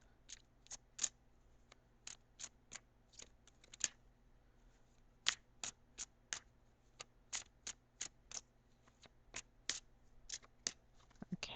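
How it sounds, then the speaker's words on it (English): A tarot deck is cut and handled by hand, giving a string of crisp, close card snaps and taps in irregular bursts over a quiet background with no talking. "I'm about to cut the cards."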